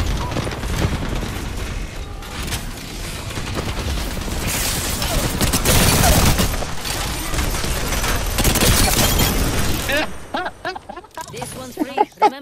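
Dense, sustained automatic gunfire from Rampart's minigun in the Apex Legends video game, loud and continuous for about ten seconds before breaking into scattered shots and game effects.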